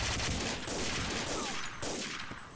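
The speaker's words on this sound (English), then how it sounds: "he was shooting the floor underneath me and couldn't get me" Rapid, dense gunfire in the video game Day of Defeat, loud overlapping shots forming a continuous burst that fades slightly at the end.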